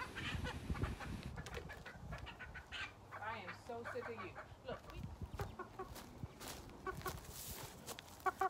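Chickens clucking close by in a scattered, busy chorus, mixed with outdoor noise and someone talking at times.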